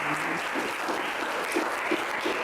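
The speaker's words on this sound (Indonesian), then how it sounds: "Oke, tepuk tangan untuk kita semua." Steady applause from a school audience fills the room, a dense continuous clapping with no voices over it.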